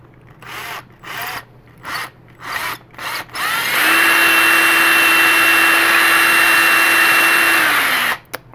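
A handheld power drill gives a few short trigger bursts, then runs continuously for several seconds while boring a hole through a leg on a 1/4-scale robot prototype. The sustained whine is loud and close, and it spins down at the end.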